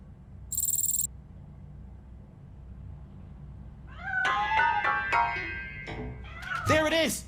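A cat hidden inside a piano in the video game Robocop: Rogue City lets out several close meows, including a drawn-out wavering cry near the end, after a quiet stretch with a brief high electronic beep early on.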